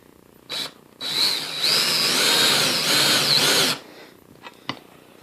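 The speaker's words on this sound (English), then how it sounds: "And let's go with the ream now" A reamer cutting a machine bushing in a workshop gives a short power-tool whir, then a sustained grinding, squealing cut of about three seconds, close and loud, followed by a few faint clicks.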